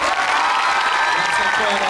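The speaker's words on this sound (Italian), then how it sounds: "Accompagniamo l'uscita del sindaco con un forte applauso, ragazzi." Loud applause from a school audience at an Italian liceo event as the mayor leaves, a dense burst of clapping that fills the moment with faint cheering mixed in.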